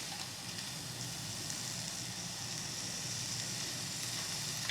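Shrimp fry in a hot pan with a steady, even sizzle that carries on without pause, close by and quiet, with no talking.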